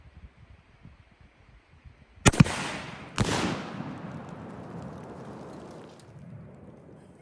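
A rifle shot at a Tannerite-packed pumpkin about 100 yards off sets off a sharp crack, followed a second later by a heavy boom that rolls and fades into a long, low rumble.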